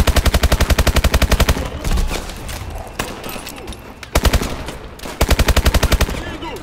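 Rapid bursts of automatic gunfire from a futuristic weapon in the Call of Duty: Advanced Warfare campaign, loud and close, several sustained volleys separated by short gaps with battle noise between.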